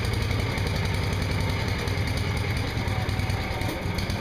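A 1981 Lincoln Weldanpower 225 welder's engine idling at a steady, loud, close rumble with a rough knocking pulse throughout.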